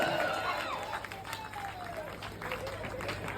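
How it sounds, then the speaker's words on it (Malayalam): At an event, a crowd gives steady, moderate applause to welcome Team Asthra Njarakkal, with an announcer talking over the clapping throughout. "അസ്ത്ര ഞാറക്കൽ ഏറെ നല്ല കൈയടിയോടുകൂടി ടീമിനെ ക്ഷണിക്കുന്നു"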